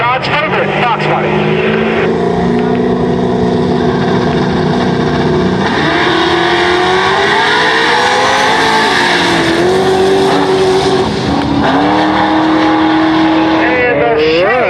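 A Chevy II and a Mustang drag race at a no-prep event, engines roaring loud and close throughout with rising and falling pitch as they rev and accelerate down the strip.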